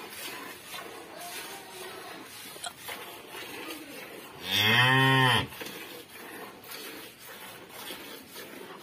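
A cow in a village cowshed lets out a single loud, drawn-out moo lasting about a second, nearby and clear over a quiet farmyard background.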